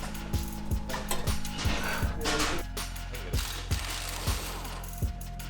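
A ratchet works a 19 mm lower shock mount bolt loose on a 5th-generation Toyota 4Runner during a lift install, giving a steady run of close, rhythmic clicking strokes over a constant low hum.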